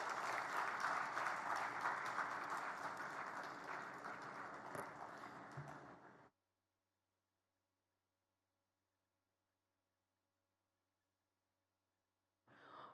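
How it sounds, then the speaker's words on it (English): Audience applause at a global investors' conference fills the first six seconds, dense and steady before tapering off into near silence, then a brief burst returns at the very end. "let's give a big round of applause for Mr. Martin"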